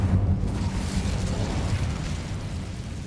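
Incendio fire spell cast in the Hogwarts Legacy video game, a sustained roaring whoosh of flame that stays loud and steady throughout with no talking over it.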